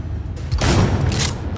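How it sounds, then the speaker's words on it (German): Loud, rapid gunfire bursts out in a Cyberpunk 2077 game scene, a short dense volley of shots and booms following a brief lead-in. "Hab Schüsse gehört."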